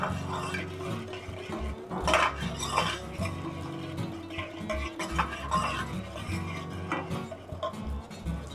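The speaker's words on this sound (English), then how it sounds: "Now start to mix well the onion, garlic and celery leeks until the golden brown color will come." Chopped onion, garlic, celery and leeks stirred in a pan for a vegan protein bowl: a utensil scrapes and clinks against the metal in an uneven, continuous rhythm under a faint sizzle.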